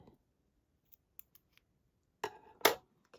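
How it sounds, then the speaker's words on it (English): Scissors snip the cord tails of a stretch bracelet: a few faint small clicks, then two sharp, close crisp snips near the end in an otherwise quiet room. "We're going to give them a snip."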